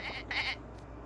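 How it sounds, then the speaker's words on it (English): Goat bleating in the Twisted Wonderland video game, two short quavering cries close together, fairly faint and heard alone. "Wretched goat, how dare you?"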